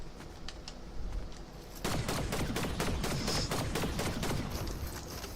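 Rapid bursts of mythic rifle fire in a Fortnite-style shooter, a few quieter shots first, then a steady run of loud close cracks firing in quick rhythm.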